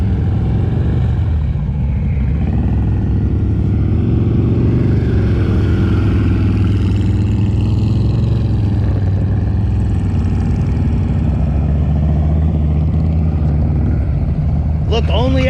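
A 900 lb motorcycle is ridden around by a small woman, its engine a steady low rumble with mild rises and falls in pitch, heard under ongoing talk throughout.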